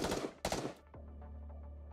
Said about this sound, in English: She proceeds to unleash a barrage of gunfire forward.